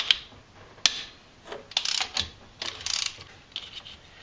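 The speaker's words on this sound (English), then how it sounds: "I'm gonna take the bolts out that are holding the compressor in, the AC compressor" A ratchet wrench loosening the bolts that hold a Jeep AC compressor: loud, close bursts of rapid ratcheting clicks, irregular and repeated, with sharp metallic ticks in between and no talking.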